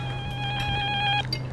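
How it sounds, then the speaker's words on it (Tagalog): A mobile phone text message notification plays alone as a short, loud electronic tone of about a second, then cuts off, leaving quiet room sound. "nag-text po si Ramil"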